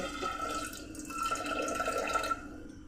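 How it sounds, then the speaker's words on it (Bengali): Water poured into soaked lentils in a pot for tadka, a continuous close splashing trickle that eases off near the end. "এতে আমি পরিমাণ মতো জল দিয়ে দিচ্ছি।"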